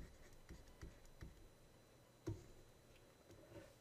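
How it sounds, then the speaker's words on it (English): Pen strokes on paper during a molecular biology lesson, a few faint scratchy taps and short writing bursts spaced irregularly, quiet and close with no talking. "And let me write that down."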